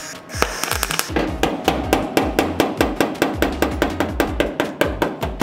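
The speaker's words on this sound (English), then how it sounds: "hammer the other loose spots down to meet it" Hammer blows on loose spots of a car's sheet-metal body panel, a steady fast run of sharp metallic strikes close by that keeps going for several seconds, with no talking.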